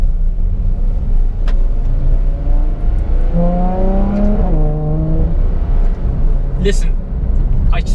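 Ferrari F12 TDF V12 engine at light throttle pulls away, its rising exhaust note with valve sounds building into a smooth swell and then easing off, while someone speaks close over it.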